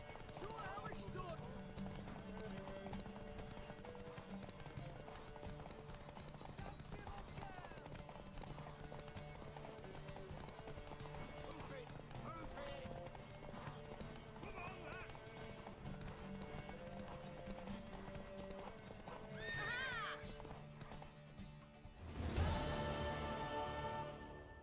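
Hooves clip-clop steadily at a gallop for a long stretch with a horse whinnying along the way in the video game The Witcher 3, then a louder rush of movement near the end.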